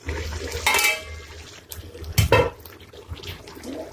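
A metal lid comes off a cooking pot of egg masala in a home kitchen, giving a sharp clatter and clank near the start and a louder metallic knock midway, with soft kitchen rustling between.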